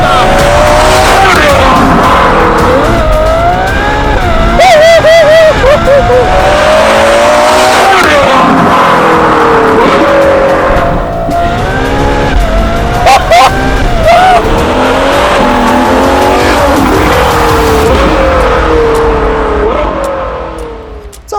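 A loud Ferrari 812 N-Largo engine revs hard and climbs through the gears, with tires squealing and a steady roar throughout, very close and dominant.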